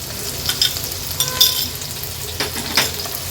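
Finely chopped onion sizzles as it fries in hot oil with garlic for a catfish-egg curry, a steady close crackle with a few sharper spits and stir scrapes, no talking.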